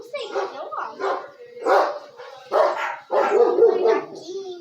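A dog that came in from the road barks in a series of short, loud yaps close by, mixed with whimpering sounds and people talking over it.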